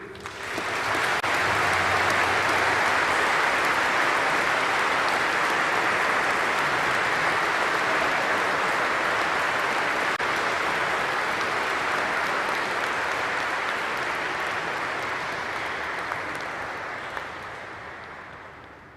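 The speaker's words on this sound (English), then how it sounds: "Let's give a round of applause to all those award winners." Sustained applause from a large audience at a graduation ceremony, a steady roar of clapping lasting nearly twenty seconds before gradually tapering off.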